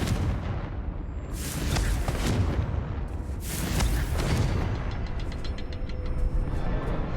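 Explosive blasts of the Confringo spell in Hogwarts Legacy, several loud booming bursts in succession, each with a rumbling tail, heard alone without talk.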